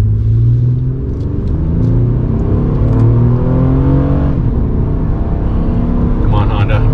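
A Honda Ridgeline pickup decelerates hard from 100 km/h, a loud in-cab rumble of road and drivetrain noise whose engine tones sweep downward as the truck slows.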